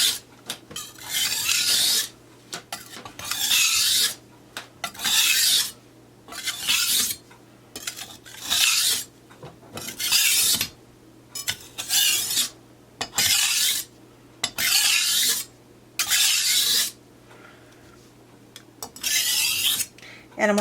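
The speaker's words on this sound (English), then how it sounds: "I'm also applying a little more pressure, which I'm noticing now the knife is feeling sharper" A kitchen knife is drawn repeatedly across a Gourmet Tool Pro sharpening stone with firm pressure, giving close, steady rasping strokes in regular bursts, about one or two seconds each, separated by brief pauses.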